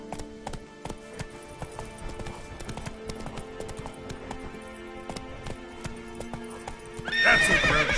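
Roach, the horse in The Witcher 3, gallops in steady clip-clopping hoofbeats close by, and the horse snorts or whinnies near the end over rustling.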